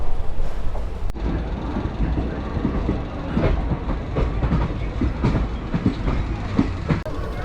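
A Gurugaon local train runs along the tracks near Delhi Cantonment, its steady rumble and rhythmic clickety-clack heard from on board, loud and continuous throughout.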